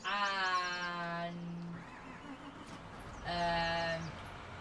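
Two drawn-out sheep bleats, nearby and fairly quiet, rise over a soft ambient hum in the Farming Simulator 19 video game, with a pause between the calls.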